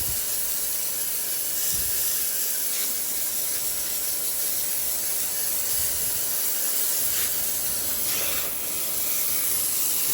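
Water spray from a soft-wash rinse hisses steadily across sandstone steps and ledges, loud and continuous throughout with small fluctuations as the stream shifts.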